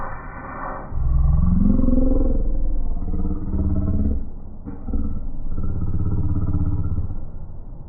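A power cutting tool slices through trunk pan sheet metal on a 1969 Firebird, a loud, close, rough whine that rises as it bites into the steel, eases briefly, then continues steadily.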